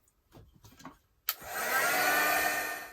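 A heat tool or hair dryer switches on after a few soft handling noises and then blows steadily over a stamped art page, giving a constant close whooshing hiss.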